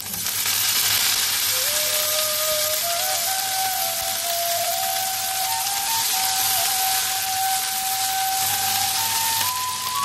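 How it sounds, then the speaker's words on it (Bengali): Chopped greens for 14 saag go into a hot spiced tempering, and a loud, dense sizzle carries on steadily with a thin whistling tone rising under it. No voices are heard. "ফোড়নটা থেকে যে সুন্দর গন্ধ ছাড়বে তখন আমরা কেটে রাখা শাকটা দিয়ে দিচ্ছি।"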